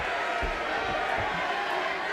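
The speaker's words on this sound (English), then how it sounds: "I cannot hear anything except this massive crowd" Massive arena crowd roaring during round seven of a professional boxing fight, a dense continuous wall of cheering and shouting with a commentator's voice partly buried underneath.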